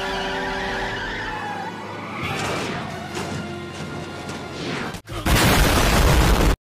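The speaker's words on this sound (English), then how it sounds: "we're going to hit the brakes and see how far we skid" A Honda Civic hatchback in the Roblox game Car Crushers brakes hard, its engine note giving way to a loud tire skid, followed by a brief cutoff and then a harsh burst of noise.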